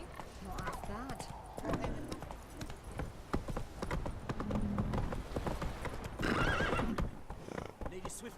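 Roach the horse gallops in The Witcher 3, steady clip-clopping hooves with a whinny near the end, under character dialogue and game music.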